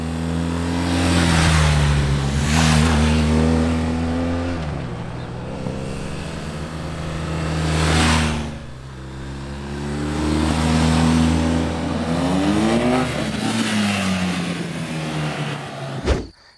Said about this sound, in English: this one pops and crackles out of the exhaust every single chance it gets.